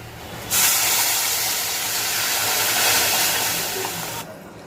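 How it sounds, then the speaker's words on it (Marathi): Hot water is poured into sizzling gravy in a pan for a mixed-dal (sandge) rassa bhaji. A loud, steady hiss of steam and sizzle starts abruptly and runs for about four seconds, then cuts off, with no talking. "ग्रेव्हीमध्ये आपल्याला आता गरम पाणी घालायचं आहे"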